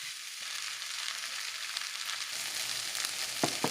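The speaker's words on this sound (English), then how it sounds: "Add in the chilies and ginger garlic paste, which you'll cook for 10 minutes until they're browned." Chilies and ginger garlic paste frying in a pan for an Indian chicken sandwich filling, a continuous close hissing sizzle with a couple of faint utensil taps near the end.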